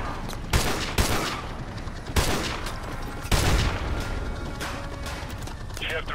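Sniper gunfire in the video game Modern Warfare 2 Remastered: several sharp, loud shots boom at intervals over a dense battle din, with radio chatter underneath.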